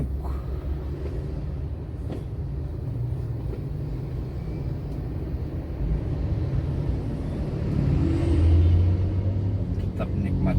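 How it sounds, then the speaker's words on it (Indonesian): Heavy traffic jam on Palembang city streets, a steady dense rumble of car and motorbike engines heard from inside a vehicle, swelling briefly louder near the end. "Super macet, super sibuk."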